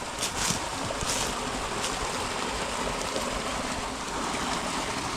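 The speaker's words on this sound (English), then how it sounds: "Neat little waterfall." A small waterfall in Utah's Pine Valley Mountains gives a steady, broadband rush of falling water, close and continuous throughout with no voices over it.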